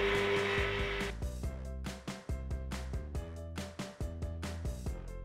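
Electric mixer whipping canned coconut milk into dairy-free whipped cream, a steady close motor whine with a shifting pitch and repeated dips as the beaters work, no talking.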